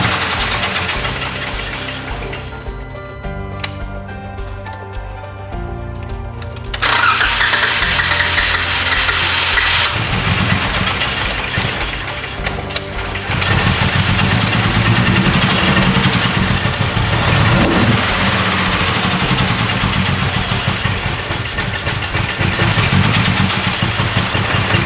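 A car engine with a newly fitted used lower intake manifold cranks, catches and settles into a loud, steady idle with a rough, knocking edge.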